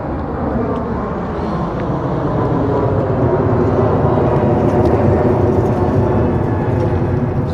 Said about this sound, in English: here's another plane